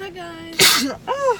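One sharp, loud human sneeze bursts out in the middle, with someone talking briefly before and just after it.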